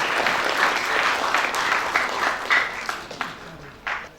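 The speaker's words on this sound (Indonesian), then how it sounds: "Oleh karena itu tepuk tangan." Audience applause at an event for the STH Garut school community, a dense, steady wash of clapping lasting several seconds with a few sharper claps standing out near the end.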